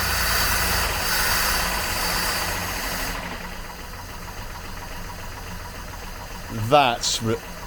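A 1939 Rover Tickford 20 drophead engine, first run in about 60 years, idles with a low, steady rumble; voices break in briefly near the end.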